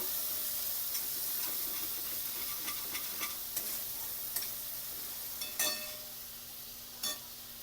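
Crushed green chili, garlic and ginger thecha stirred and fried in a pan, with a soft continuous sizzle and scattered spatula scrapes and taps, a few sharper knocks near the end.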